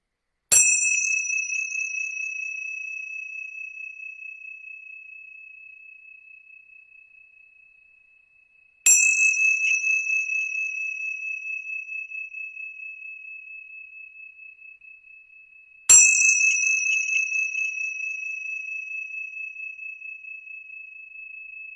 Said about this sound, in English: I invite you to listen to these 3 sounds of this bell.